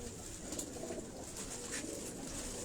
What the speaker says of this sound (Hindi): मैं कैमरा पे आपको कबूतर दिखा रहा हूँ